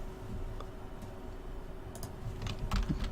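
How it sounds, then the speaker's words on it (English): Rapid, fairly quiet clicking of typing on a computer keyboard, steady and continuous with a few sharper key taps near the end, with no talk over it. "That sounds like a lot of typing."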